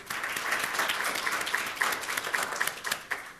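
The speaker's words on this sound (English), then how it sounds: "so let's give them a big round of applause" A roomful of people at a Main Street business webcast event applauds two organizers, a steady, moderately distant patter of many hands clapping with a few sharper claps standing out.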